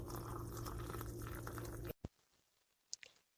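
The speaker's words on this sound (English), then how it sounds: "I'm just going to add my hot water" Hot water poured into a cup of dropped-in flowers to make a floral tea, a steady close liquid rush for about two seconds that stops abruptly, followed by a couple of light clinks.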